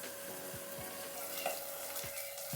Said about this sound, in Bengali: যে 3টে বাকি ছিল ওগুলো আমি এইভাবে একইভাবে ভেজে নিয়েছি।